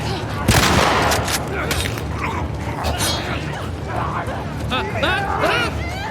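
Gunshots and mechanical creaks in The Last of Us Part II, several sharp shots spread through a noisy combat scene, with a player talking and game dialogue over them.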